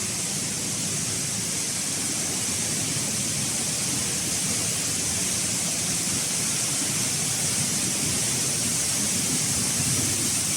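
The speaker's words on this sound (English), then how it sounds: "The waterfall over there." A waterfall near Miao villages in Western Hunan rushes as a steady, dense broadband roar that fills the scene from start to finish without a break.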